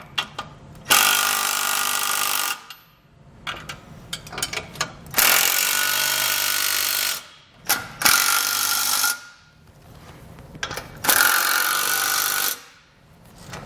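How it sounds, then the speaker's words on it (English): A wrench and socket tighten base plate hardware on a 2019 Jeep Wrangler, with loud, close ratcheting bursts lasting a couple of seconds each, separated by quieter gaps of clinks and handling noise. "we can come back with a wrench and a socket and snug everything down"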